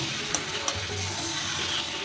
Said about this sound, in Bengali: এবার খুব ভালো করে আমি ভেজে নেব খুব ভালো করে ভাজা হয়ে গেছে চিকেন